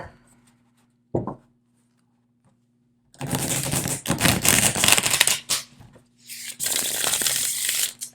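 A brief tap, then two bursts of dense, crisp riffling as a Traditional Korean tarot deck is shuffled close up, separated by a short pause.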